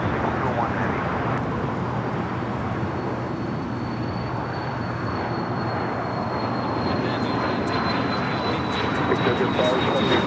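An aircraft takes off from runway 25 right at LAX, a loud, sustained engine roar with a thin whine rising over it, steady throughout, with voices partly underneath.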